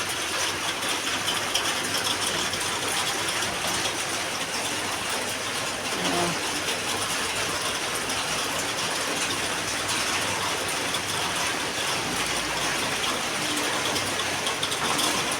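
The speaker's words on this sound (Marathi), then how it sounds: "बघा, सकाळपासून पाऊस पडतोय." Heavy monsoon rain pours down in Mumbai, a dense, steady hiss and roar of falling water that stays loud and unbroken throughout, with no voices.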